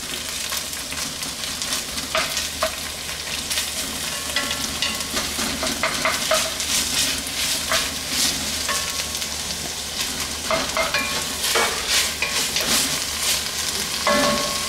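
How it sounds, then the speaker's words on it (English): Chopped onion sautéing in a hot ceramic-coated cast iron pan, a steady sizzle broken by repeated scraping and clacking strokes as the pieces are stirred and broken up, close and with no talking. "And saute. Try to break up all the pieces of onion."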